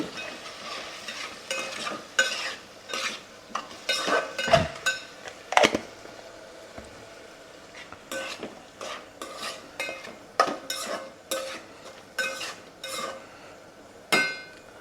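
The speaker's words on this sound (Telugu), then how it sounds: "అల్లం వెల్లిపల్లి వేసిన తర్వాత మనకి అడుగంటుకోకుండా మంచిగా ఉంటుందండి నూనెలో మగ్గుతుంది" Ginger garlic paste frying in oil for an egg curry, stirred with a utensil that scrapes and clinks against the pan in irregular bursts over a steady soft sizzle, close and fairly quiet, no talking.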